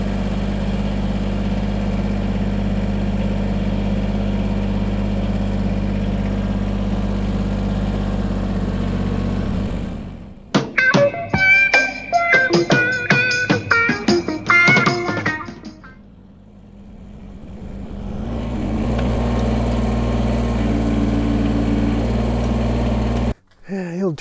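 A pickup truck's engine cranks and fires up, sputtering through an uneven burst before settling into a steady low idle that rumbles on for several seconds, close by and loud.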